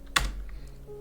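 A single sharp keystroke on a computer keyboard, close and crisp, followed by a faint low hum of room noise.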